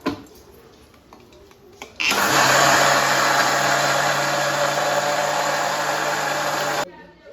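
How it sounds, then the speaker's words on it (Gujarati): An electric mixer grinder whirs loudly for about five seconds, grinding soaked rice and lentils into handvo batter; a quieter stretch precedes the steady, high-pitched motor roar, which then cuts off abruptly. "હવે એને આપણે મિક્સરમાં પીસી લઈશું"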